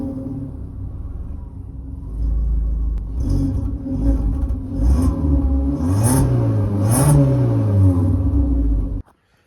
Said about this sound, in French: on va mettre des petits gaz pour voir avant et après comment ça rend.